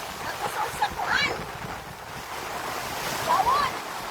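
Waves wash onto the beach at Himoaw, Hilongos, Leyte, a broad steady surf roar mixed with wind buffeting the microphone, and brief faint voices come through now and then.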